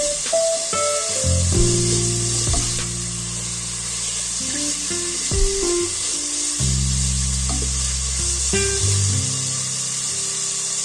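Masala frying in a pan for a pizza topping, a steady loud sizzle and hiss with stirring scrapes throughout, plus some low tonal hum from the stove or kitchen in the background.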